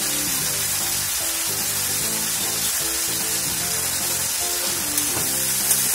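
Banana flower and prawns fry in a pan with a loud, constant sizzle while being stirred, the hiss steady throughout with faint scraping underneath and no talking.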